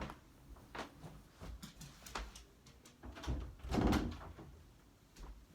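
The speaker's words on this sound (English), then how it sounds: "I'm actually gonna go close the door." An indoor door is pushed shut, with a series of soft knocks and handling clicks building to a firmer thud near the end, all fairly quiet with no one talking.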